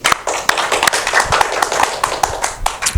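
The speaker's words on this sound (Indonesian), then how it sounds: "Oke, tepuk tangan dulu." A small audience claps at a public event, with sharp, uneven, close-up claps and sparse hands rather than a full ovation.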